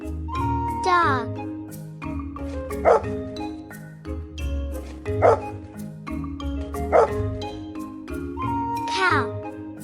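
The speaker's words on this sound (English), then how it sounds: "Dog." A dog barks in a repeating pattern, about every two seconds, over cheerful children's music, with short bright yips standing out above the tune.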